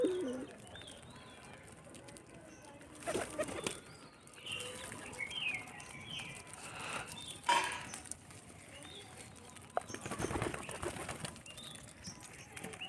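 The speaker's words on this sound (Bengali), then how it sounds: "পায়রাগুলো আমরা এখন সব ছেড়ে দিয়েছি, এখন একটু খেতে দেওয়া হবে" Released pigeons flap their wings in several bursts, with soft cooing in between, heard outdoors at a moderate, fairly quiet level, alongside a little background sound.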